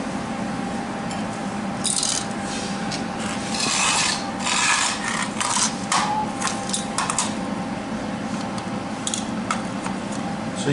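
Harsh scraping and rasping as metal on a trailer is cleaned before welding, continuous gritty rubbing strokes close up with brief louder bursts and no talking.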